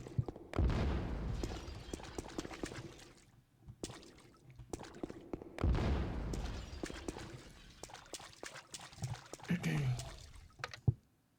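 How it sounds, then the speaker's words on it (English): A fire explosion trap goes off in the Dungeon Keeper video game, undead campaign, giving rumbling booms and crackling bursts in two heavy waves, while someone talks quietly over the game sounds. "This time it's fire explosion."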